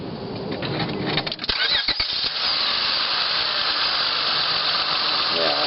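The V6 engine of a 2002 Honda Accord starts up after a dead misfire is repaired. A few cranking bursts lead into a loud, steady running roar with a squealing edge, heard up close.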